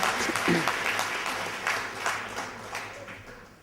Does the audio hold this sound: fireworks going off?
no